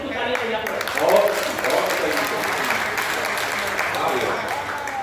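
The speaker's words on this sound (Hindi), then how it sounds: "तो सारे लोग इसको तालियां बजाएं।" Applause from a crowd at a Hindi poetry recital, a sustained wash of clapping that swells briefly near the start, with a voice audible underneath at times.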